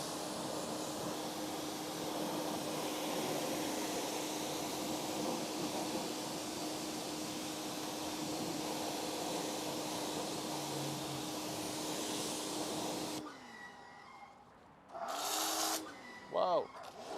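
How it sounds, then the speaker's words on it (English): Pressure-washer spray rinses a heavily soiled car wheel in a steady loud hiss that runs for several seconds, then cuts out, followed by short bursts of foam spraying close by. "So I'm gonna go ahead and rinse this off. I'm gonna refoam it,"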